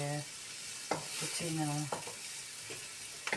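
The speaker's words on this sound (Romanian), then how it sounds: "zardavaturile astea, morcovii și cu ceapa, și nu prăjim mult" Carrots and onion fry in a pan with a steady, close sizzle, broken by a few sharp clicks of stirring, while a voice speaks briefly under it.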